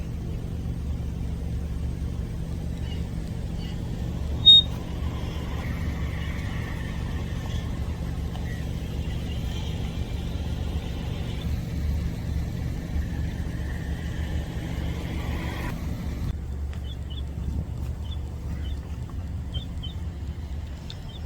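Steady low rumble of surrounding road traffic hums beneath the scene near where migratory birds are feeding, with a brief knock early on and faint high chirps toward the end.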